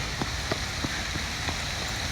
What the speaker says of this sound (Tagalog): Lakas ng fountain eh.